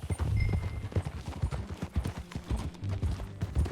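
Horse hooves galloping in the video game Red Dead Redemption 2, a fast rhythmic clip-clop of hoofbeats on ground, close and steady across the whole stretch with no talk.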